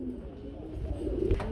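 Indian black-tailed (kaldom) pigeons cooing in a pair, low soft coos repeating steadily and close by, with a slightly louder burst near the end.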